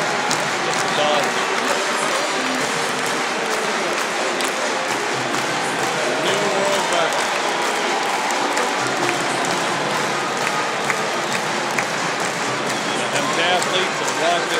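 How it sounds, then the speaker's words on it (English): A large stadium crowd at the 2009 World Championships in Athletics in Berlin cheers and applauds Usain Bolt after a race, a dense, loud, continuous roar with claps and shouts throughout. "The crowd's just going nuts."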